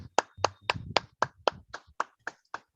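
Single person clapping hands during a video call, about ten sharp, evenly spaced claps, close and fairly quiet, with no talk.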